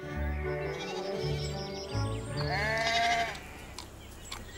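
Sheep and lambs bleat in a spring meadow, several loud, close, wavering calls overlapping one another, with birds chirping faintly in the background.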